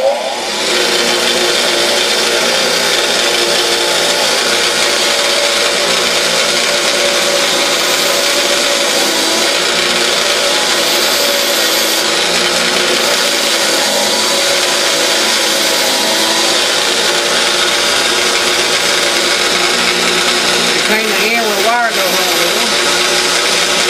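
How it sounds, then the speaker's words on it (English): Spinning wire brush wheel cleaning a spark plug, a loud steady motorized whine with harsh broadband scraping that runs continuously, close up, with a brief shift near the end. "Then I'll take it over a wire brush."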